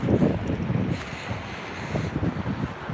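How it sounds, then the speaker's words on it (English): Strong gusts from a New York City windstorm buffet the microphone, a loud, rough roar that surges and eases in waves with no speech. "And it's still very windy outside."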